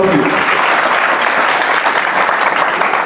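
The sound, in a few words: audience applause for a guest speaker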